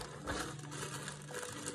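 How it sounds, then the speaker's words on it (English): Plastic bag packaging crinkles and rustles while a vacuum sealer is unboxed, a soft, continuous crackling at close range over a faint background hum. "There's a plastic bag. Another plastic bag."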